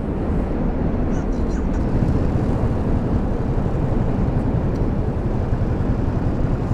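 A 2022 Ducati Monster Plus motorcycle is ridden at a steady cruise, its engine a continuous low drone mixed with heavy wind rush, loud and unbroken throughout.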